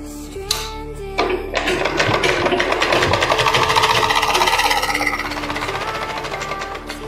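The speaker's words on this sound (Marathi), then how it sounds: "आता उलट्या साईडने आपण शोल्डर जोडून घेऊया" A sewing machine stitches the shoulder seam of a plain katori blouse, a steady close mechanical whirring that starts after a brief pause and runs continuously, loud and unbroken, with no talking.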